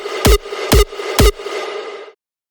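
Rawstyle hardstyle kick built from layered low, mid and high punch, produced in FL Studio: three loud, evenly spaced distorted kick hits with a buzzing tonal tail that rings on before cutting off.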